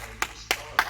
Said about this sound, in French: on peut s'applaudir bien fort